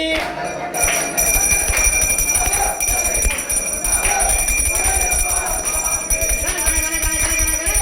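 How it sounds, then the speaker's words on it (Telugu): Temple bells ring during a devotional Ayyappa song, bright metallic chiming that continues steadily and loudly throughout, mixed with rhythmic music. "గంటలు కొడుతున్నా నీ గుడి గంటలు కొడుతున్నా నీకే అయ్యప్ప స్వామి"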